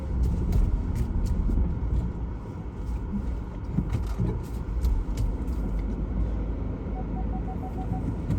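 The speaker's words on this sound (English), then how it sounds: "Oh, there's a car now." A car passes along a sunny village road in Reedham, a moderate rumbling engine and tyre noise that swells and fades over several seconds, heard from inside a moving vehicle with some clicks and knocks.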